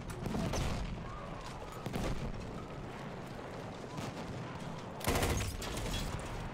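Rapid submachine gun fire in the Battlefield 1 PC game, with dense bursts of shots and booming battle noise throughout, swelling again near the end, and faint voices underneath.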